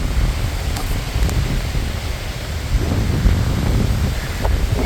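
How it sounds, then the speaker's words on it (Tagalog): Steady, strong wind roars and buffets the microphone throughout, a constant rushing noise with no voices. "ang lakas ng hangin"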